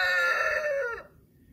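A single rooster crow rings out, clear and fairly close, a bright drawn-out call lasting about a second before cutting off into quiet.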